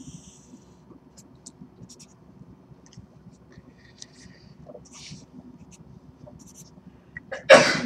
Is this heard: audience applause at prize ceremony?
no